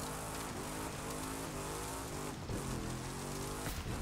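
Engine noise in The Crew 2 racing game as a car accelerates, a loud, continuous roar with rising pitch and some tire noise.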